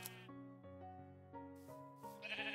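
Sheep in a video game bleat in two or three drawn-out, wavering calls, heard clearly and alone with no talking.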